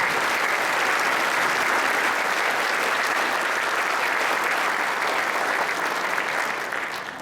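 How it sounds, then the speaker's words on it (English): Sustained applause from an audience at a business awards and hall of fame ceremony, a dense, even wash of clapping hands that fades slightly at the end. "let's give them another round of applause."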